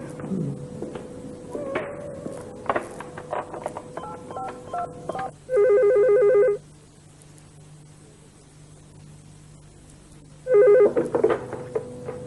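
A landline phone sounds a quick run of dialing tones and button presses, then two long ringback tones in a quiet room, with faint movement between them.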